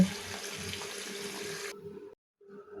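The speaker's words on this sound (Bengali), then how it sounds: "গাজরগুলোকে ভালো করে ধুয়ে পরিষ্কার করে নিচ্ছি।" Carrots, two and a half kilos, rinsed under a running tap, a steady close hiss of flowing water that cuts off abruptly near the end before a brief trickle resumes.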